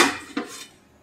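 A metal lid set down over a pot of Hyderabadi chicken dum biryani, a sharp clang followed by a second softer clink as it settles, close and brief, with no talking.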